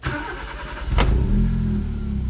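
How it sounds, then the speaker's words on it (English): Turbocharged Nissan Micra engine cranking and catching, a brief sharp crank followed by the motor firing into a steady, loud idle up close. "turn on the engine"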